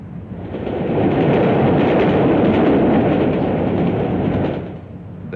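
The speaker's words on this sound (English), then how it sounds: "Suburban and cross-country services are seeing more and more of these new diesels" A 1959 diesel multiple unit train runs past at close range, a loud rumbling roar that swells, holds steady for several seconds, then fades slightly.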